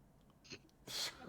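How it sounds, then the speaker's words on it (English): A single quiet sneeze, a short breathy intake followed by a sharp burst, close by with no talking. "He both sneezes and farts."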